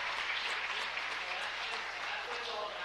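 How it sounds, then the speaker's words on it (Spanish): Sustained, even applause fills a city council meeting chamber as the audience claps for participating students; steady and moderately loud, with no break across the stretch. "Un aplauso para cada uno de los estudiantes"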